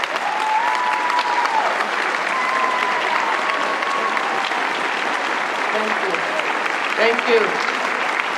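A commencement audience at Moore's 2024 graduation ceremony rises in a standing ovation, sustained clapping filling a large space while a speaker's voice talks briefly over it.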